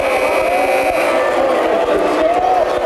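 A partisan Trojan crowd at a high school boys basketball game, Cathedral Prep vs McDowell, reacts to a blocking foul call with a steady, loud, sustained roar that fills the gym throughout.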